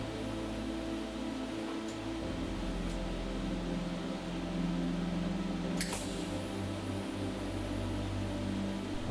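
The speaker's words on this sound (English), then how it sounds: "I'm using the TIG torch to attach the bolts" A TIG torch welds bolts onto steel plates, giving a steady, even hum and hiss that runs without a break, with a brief sharp crackle near the middle and no talk.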